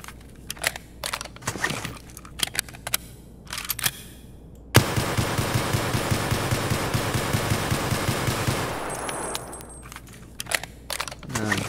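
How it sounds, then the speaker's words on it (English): An automatic weapon fires a long sustained burst in Escape from Tarkov, loud rapid evenly spaced shots lasting several seconds, framed by quieter clicks and handling noises before and after. "I'm assuming they fixed the rate of fire issue with automatic weapons"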